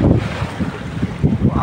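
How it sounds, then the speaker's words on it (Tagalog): Heavy sea waves slosh and pound around a fishing boat out on open water at night during longline fishing, a steady loud churn with wind buffeting the microphone throughout. "Wow, grabe, ang lakas ng alon guys."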